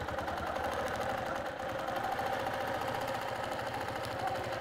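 A sewing machine stitches a quilt along a slotted ruler, its steady fast mechanical chatter running unbroken and fairly loud.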